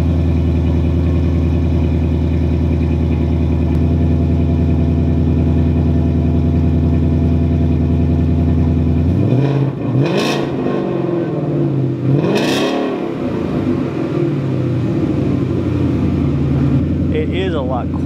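Car exhaust tailpipes idling with a loud, steady deep rumble, then two sharp revs in quick succession before settling back to idle.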